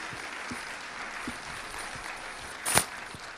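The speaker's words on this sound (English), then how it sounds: "Let's give them another round of applause." Audience applause following a church children's musical, a steady, soft wash of clapping that continues evenly throughout, with a brief louder burst near the end.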